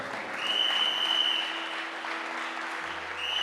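Audience applauding at a church gathering, a dense burst of clapping that swells and then holds steady for a few seconds at moderate loudness.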